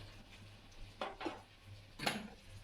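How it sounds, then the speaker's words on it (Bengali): A metal lid lifted off a cooking pot in a home kitchen: a few light clinks and scrapes of metal on metal, close and quiet, with a faint steady hum underneath. "2 মিনিট পর ঢাকাটা খুলে নিচ্ছি"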